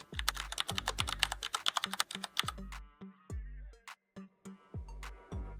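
Keys clatter on a computer keyboard while a search is typed into Google, a quick run of crisp close taps that thins out into slower, scattered keystrokes with short pauses.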